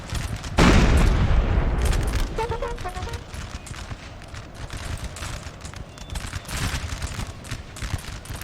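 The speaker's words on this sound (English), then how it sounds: "This Persian gun just friendly fired so much of its own cavalry here." A Persian artillery piece in a Napoleon: Total War battle fires one loud, close boom that rolls off, followed by a busy din of scattered musketry and hoofbeats.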